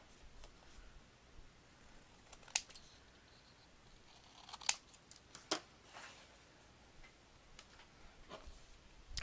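Scissors cut mitered corners on paper for a homemade album, with a few faint, sharp snips spaced irregularly over a quiet background.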